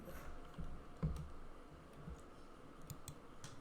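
Someone types on a computer keyboard to log in, producing light, irregular key clicks with a louder tap early on, close but soft against quiet room noise.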